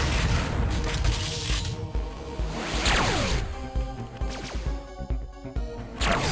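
A smart missile detonating in the game Descent, a loud crashing blast with sweeping, descending whooshes of scattering projectiles, followed by clattering smaller impacts and mechanical noise.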